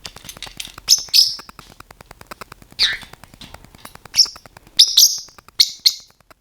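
A pet parrotlet gives repeated sharp, high chirps and tweets in close range, with short bursts spaced irregularly over a rapid faint ticking background, no talk.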